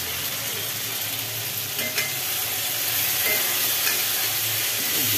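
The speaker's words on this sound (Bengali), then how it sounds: "জিরে বাটা দিয়ে একটু নাড়াচাড়া করার পরে দিয়ে দিল পরিমাণ মতো হলুদ গুঁড়ো" Cumin paste and turmeric powder fry in hot oil in a pan while being stirred for a rohu fish curry. There is a steady close sizzle and hiss with scraping from the stirring, and no talk.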